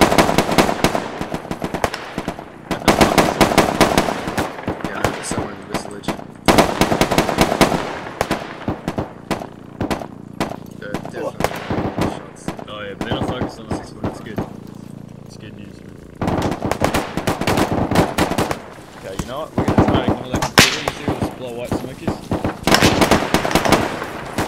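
Suppressive gunfire in a military shooter game, with loud bursts of rapid automatic fire repeating in long volleys with short pauses and a quieter stretch midway, while teammates talk.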